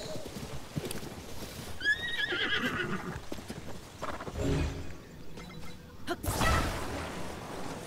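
A horse in Zelda: Tears of the Kingdom gives a sharp whinny, followed by heavy hoof clops and thuds as it moves off, with game ambience and no talk.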